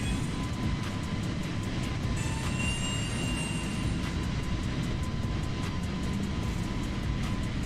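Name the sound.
aircraft air start unit running on the ramp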